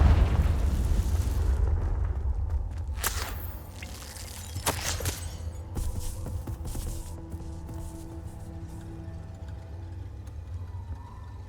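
Confringo explosion spell cast in the Hogwarts Legacy video game, heard as a deep rumbling boom at the start followed by a couple of sharp bursts and a fading low rumble, with no talking.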